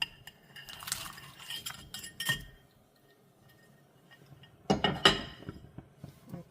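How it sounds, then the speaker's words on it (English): Semi-frozen pre-cooked seafood mix tipped into a cooking pot, giving a few soft clinks and scraping knocks of utensil against metal in two separate bursts, fairly quiet, with no one talking. "But I'm going to add that right into the pot."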